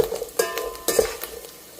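Chopped onions sauté in a pan, with sharp scraping stirs of a utensil striking the metal every half second or so over a low sizzle, close and without speech.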